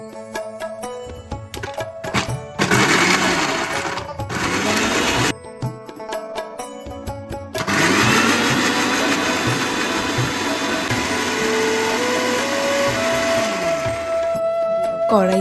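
A blender grinds tomato, cashew, green chilli and garlic into a smooth paste with a little water, its motor whirring loud and steady in bursts with brief pauses between runs, rising in pitch as the blades spin up.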